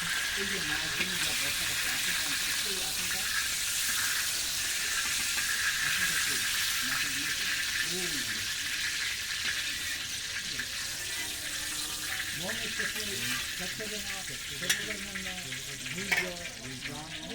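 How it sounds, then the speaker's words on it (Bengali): Cumin seeds, bay leaf and dried red chilies sizzle in hot oil in a wok for a tempering, a dense, steady frying hiss that runs throughout while voices talk underneath. "কড়াইতে দিয়ে দিয়েছি জিরে তেজপাতা শুকনো লঙ্কা ফোড়ন"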